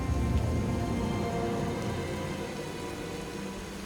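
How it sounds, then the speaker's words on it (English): Steady rain falls in the Skyrim video game, at the outskirts of an area in the world, a dense continuous patter that is loudest at the start and eases slightly, with no talk over it. "Apparently it's raining"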